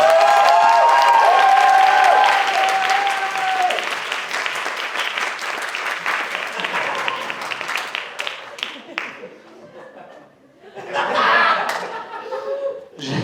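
Loud audience applause and cheering at a drag show, dense clapping filling the first few seconds, then thinning into scattered claps with laughter and talk, before a brief renewed burst near the end.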